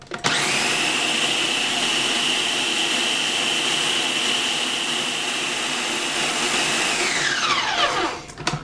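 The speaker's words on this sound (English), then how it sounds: "And now we're going to be using our chop mode." A Farberware food processor chops spinach pesto in chop mode, a loud steady motor whir with a high whine running for several seconds, then winding down as the blade slows to a stop.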